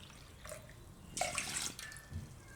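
Water poured into a pan to cook ragi khichu, a brief splashing pour with a faint trickle afterward, close by and with no talk.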